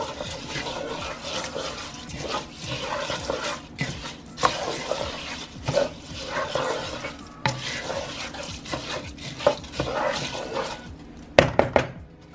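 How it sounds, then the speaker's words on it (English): A spoon stirs rice through a pot of chicken and flavorings, producing close, continuous wet churning and swishing with occasional louder scrapes and knocks against the pot. "We're getting ready to stir the rice up in all this good flavor."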